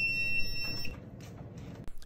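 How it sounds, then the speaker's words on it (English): A cheap Amazon knockoff hydroponic garden with an empty tank sounds its low water alarm, a shrill electronic beep tone that holds steady for under a second and then cuts off, followed by quiet handling clicks and a sharp tap. "As I apply power, immediately we're gonna get an alarm because there's no water in it, so it's gonna trigger the low water alarm"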